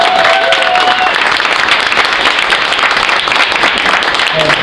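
A comedy club audience at a stand-up night applauds steadily for nearly five seconds, a dense wash of clapping with a few whistles near the start.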